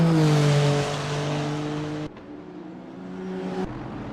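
GT3 race car engine in a sim racing game at Sepang, a loud sustained tone that holds, dips sharply and climbs again, like an upshift and renewed acceleration, alone without talk.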